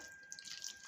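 Water trickles briefly into a bowl of oats and green gram batter seasoned with semolina and salt, a faint, short pour under quiet room tone.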